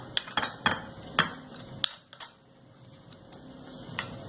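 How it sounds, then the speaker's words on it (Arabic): A utensil stirs boiled eggplant with squeezed lemon juice in a dish, giving several sharp clinks and taps against the container in quick succession, then quieter scraping. "بعد ما عصرنا عليهم الليمونتين كده هنقلبهم كده مع بعض"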